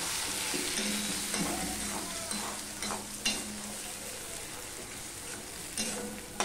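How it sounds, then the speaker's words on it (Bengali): Ground tomato paste with green chillies sizzling and being stirred in a pan, a steady low frying hiss with occasional scraping, no voices. "এবার টমেটোটা আমি ভালো করে একটুখানি জলটা যতক্ষণ না শুকাচ্ছে ততক্ষণ আমি একটুখানি কষিয়ে নেব"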